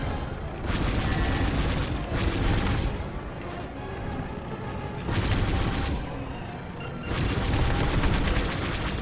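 A TIE Reaper blows apart in the Star Wars: Squadrons space combat game, heard as a series of loud, rumbling booming bursts that swell and fade in several waves, with no talk.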